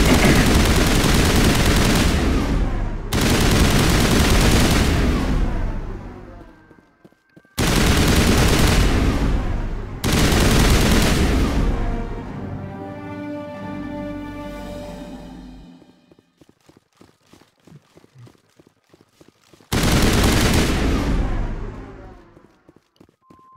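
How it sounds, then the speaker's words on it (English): An LMG-like gun in a video game fires continuously in several long, loud, sustained bursts separated by short pauses. Near the end there are scattered lighter clicks and a softer ringing tail before one final burst. "This thing is basically like a freaking LMG."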